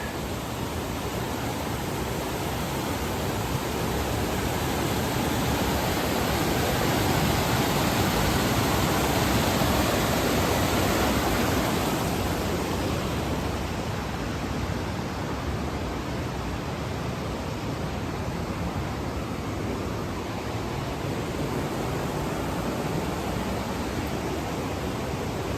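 Steady broadband rush of river water flowing continuously and evenly, close and fairly loud, with no voices over it.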